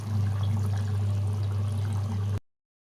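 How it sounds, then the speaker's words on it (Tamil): Soaked tamarind water is poured into a simmering dried fish and bottle gourd gravy, making a steady splashing pour over a low hum for about two seconds before it stops abruptly. "இப்போ நம்ம ஊற வச்ச புளி தண்ணியை சேர்த்துக்கலாம்."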